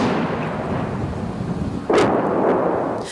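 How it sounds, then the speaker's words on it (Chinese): Artillery shelling in Bakhmut: a deep rumbling background is broken by a sharp, heavy blast near the middle, followed by a rolling boom and a fainter second thump. "当地守军日夜遭到炮火密集轰炸"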